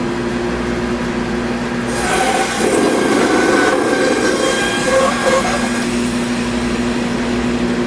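A bandsaw with vacuum dust collection runs at a steady hum and whine, then bites into a workpiece for a few seconds of rougher, louder cutting noise before returning to the even running tone.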